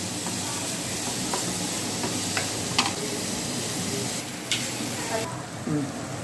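Onion and tomato with salt sauté in a pan, giving a steady, close sizzling hiss throughout with a few faint stirring clicks scattered over it.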